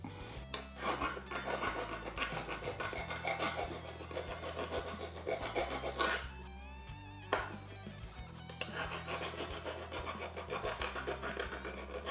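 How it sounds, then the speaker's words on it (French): A metal file enlarges a hole in a metal part, with close, repeated rasping strokes in a steady back-and-forth rhythm. A brief break comes midway before the filing resumes. "Donc la lime. On éloigne le micro puisqu'il est magnétique. Et on va un petit peu agrandir ce trou."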